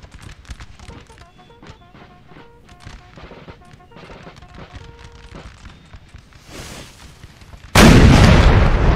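An artillery volley in a video game battle opens as scattered distant cracks and thuds of gunfire, then ends with a sudden loud roaring burst of cannon fire that runs on to the end.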